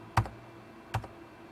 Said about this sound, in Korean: 화살표를 그 키보드를 화살표 눌러서 아래로